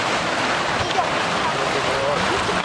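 Sea waves at Malyi Atlesh on the Tarkhankut coast, a steady broadband wash of surf with wind noise and small boats out on the water, continuous and fairly loud throughout.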